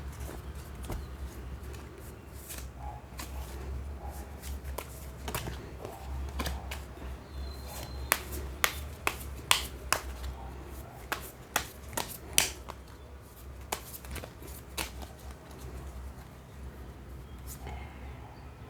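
Tarot cards being shuffled by hand, soft rustling with a run of sharper card snaps partway through, close but fairly quiet, with a little faint talk in the background.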